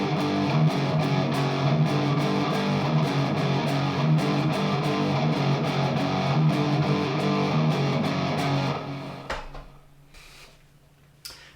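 Full band playing a passage of a metal song in 7/4 time, loud heavy distorted guitars with drums in an odd-metered groove, breaking off near the end into scattered fading hits and near-silence.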